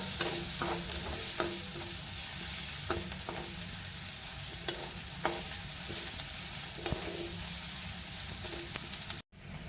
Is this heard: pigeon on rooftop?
no